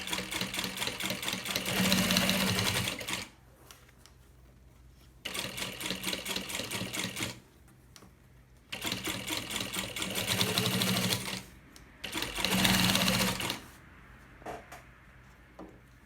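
A sewing machine runs a seam on a baby bag in three or four loud, close bursts of whirring stitching, separated by quiet pauses, with no voices over the motor.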